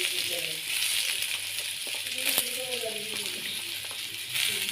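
Sliced onions hitting hot oil after mustard seeds for a quick tomato chutney, making a soft, steady frying hiss with faint crackles and light scraping, fairly quiet throughout.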